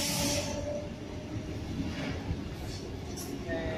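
A passing train, the Canberra Explorer, rumbles by with a rolling rail roar and faint squeals, steady and moderately near, with the odd high screech.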